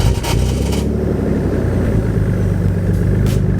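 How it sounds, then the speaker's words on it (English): A twin-turbo Nissan 300ZX on its stock exhaust cold-starts roughly, with a loose starter, and settles into a low, uneven idle drone for a few seconds, with a brief scrape near the start. "this is gonna be the last cold start of this car sounding like a freaking vacuum cleaner"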